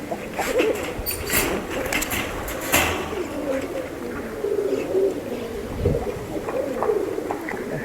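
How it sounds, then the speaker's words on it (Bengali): Domestic pigeons in a house loft coo and rustle steadily throughout, a dense close chorus of low throaty calls with occasional wing flaps and sharp clatters. "বাসায় তো প্রচুর কবুতর।"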